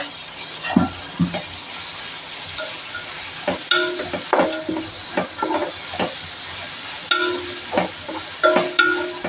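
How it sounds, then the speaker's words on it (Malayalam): Onions with crushed garlic, ginger and green chilli paste sizzling in a pan while being stirred, a continuous fry broken by repeated scraping and clattering strokes of a spoon against the vessel. "നന്നായിട്ട് ഇളക്കി കൊടുക്കാം"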